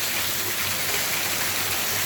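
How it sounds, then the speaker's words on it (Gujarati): Steady heavy rain pours down during a monsoon thunderstorm in Mota Mandva, a dense continuous hiss without any distinct thunderclap in this brief stretch. "વરસાદ પડી રહ્યો છે વીજળીના કડાકા ભડાકા સાથે"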